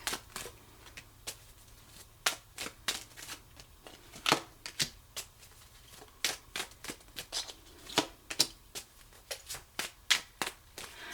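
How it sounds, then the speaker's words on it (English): A Lenormand deck is shuffled by hand in a quiet room, with brisk riffles and card snaps coming in irregular bursts, close and fairly soft. "let's get some cards from the Lenormand deck"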